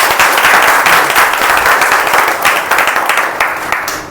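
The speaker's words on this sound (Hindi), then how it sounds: "आप सभी के लिए एक बार जोरदार तालियां।" Participants at a corporate training session give loud, close, continuous applause, a thick wash of many hands clapping that thins slightly into scattered claps at the end.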